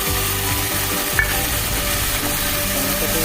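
Tomato paste sizzling and frying in a pan with browned onions, a steady close crackle throughout, with a brief scrape of stirring near the middle.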